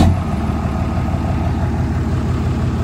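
A Ford 4th gen Megacab dually pickup truck engine running loud and steady, a deep idling rumble that stays close and constant throughout with no talk over it.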